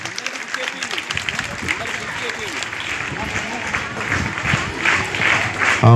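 Students clapping at a village panchayat felicitation ceremony at a school, with sustained, dense applause that swells toward the end amid crowd noise.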